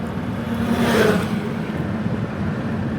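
Steady low road rumble from inside a moving car travelling near a forest and railway line toward the Bhutan border checkpoint, a continuous engine and tyre drone with no talk.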